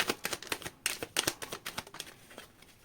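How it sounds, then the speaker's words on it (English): A deck of tarot cards being shuffled, a quick run of soft papery flicks and riffles in an irregular rhythm, close and fairly quiet, with no talk over it. "Last shuffle. Last shuffle."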